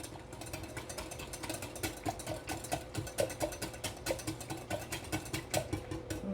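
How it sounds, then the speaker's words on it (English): A whisk beats ingredients together in a bowl during pantry meal prep, a steady rhythmic clatter of repeated strokes close by, running continuously without talk. "We're gonna whisk that together."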